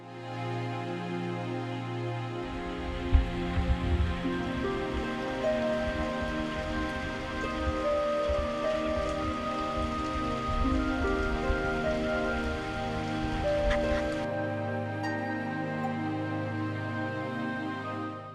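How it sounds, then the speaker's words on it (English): Steady rain pattering on a surface near Ratnapura, Sri Lanka, loud and continuous throughout, with a tonal hum underneath and no voices. "Everything was perfect until rain starts."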